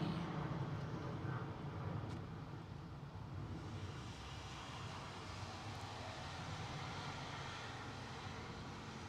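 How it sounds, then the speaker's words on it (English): A British Airways Airbus A320 passes at London Heathrow, its engine noise a faint, steady rumble that swells slightly early on and then holds level, with no voices. "And there goes another British Airways A320."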